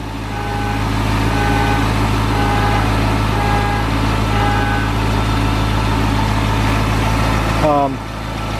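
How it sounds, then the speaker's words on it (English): A 2005 Cadillac CTS-V's LS6 350 cubic inch V8 idles in a loud, steady low rumble that runs throughout, with a short electronic chime near the end. "this is the heart of the beast, LS6 350 cubic inch engine"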